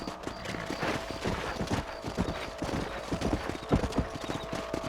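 Horse hooves clip-clopping in a steady trotting rhythm in the Red Dead Redemption video game on a ranch, close and continuous with faint ambient background.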